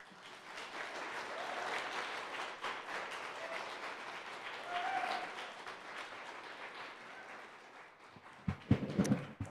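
An audience applauds after a poetry reading at an evening literary festival event, sustained clapping from a crowd that swells and then fades, followed by a few louder handling bumps.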